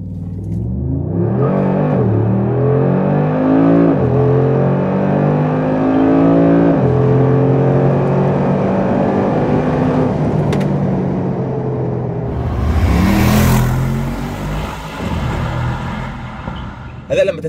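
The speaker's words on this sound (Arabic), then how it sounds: "خلوني افرجيكم تجربة التسارع من 0 الى 100." A Mercedes G63 engine accelerates hard from 0 to 100, its pitch climbing through several gear changes with brief dips between shifts, loud and close throughout.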